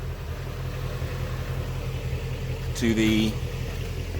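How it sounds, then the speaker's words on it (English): A 2016 Shelby GT350 Track Package sits idling with a steady low, throbbing rumble close by, while someone talks over it. "here she is, my 2016 Shelby GT350 track package"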